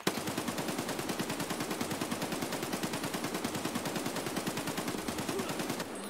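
Sustained automatic gunfire from the video game Escape From Tarkov rattles in a rapid, even stream of loud shots for about six seconds without pause.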